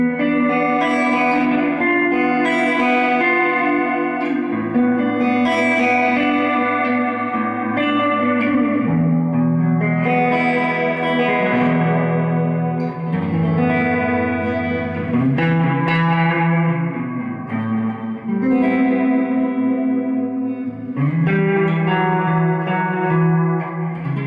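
An electric guitar runs through a Strymon Blue Sky reverb pedal on a pedalboard, playing sustained, slightly distorted chords and notes that bloom into a lush, continuous wash of reverb, loud and steady with no talking.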